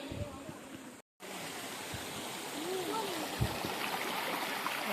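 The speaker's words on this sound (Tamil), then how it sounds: "கொஞ்சம் கொஞ்சமாக தண்ணி கொட்டுது." Water flows steadily down over rocks toward a waterfall in the Rakkachi falls area, a continuous close rushing wash with a brief dropout near the start and faint voices underneath.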